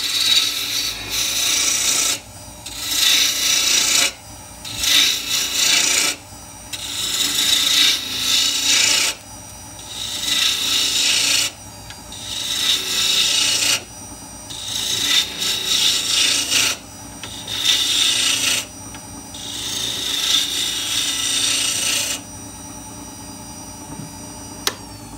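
A wood lathe spins while a turning tool cuts away waste wood for a bowl, giving repeated bursts of loud, close scraping and rasping separated by short pauses, with a quieter running hum between passes.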